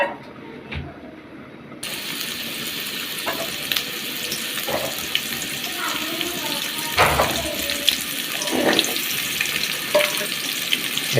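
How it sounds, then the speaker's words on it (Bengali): Potatoes fry in oil with a little turmeric in a pan, a steady close sizzle that starts after a short quieter lead-in, broken by scattered clicks and scrapes of stirring. "আমরা আলুগুলো আগে ভাজে নেব।"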